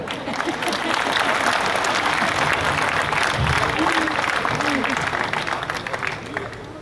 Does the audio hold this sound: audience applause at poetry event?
yes